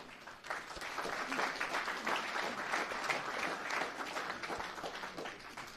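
Quiet, distant applause from a gathered audience welcoming a guest speaker on senior scams, a soft continuous patter of many hands that swells slightly and then holds steady.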